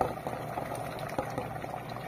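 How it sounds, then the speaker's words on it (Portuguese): Water boiling in a pot for cooking chicken with okra, a steady close bubbling and churning with small pops, heard alone without talk. "Aqui já tá fervendo."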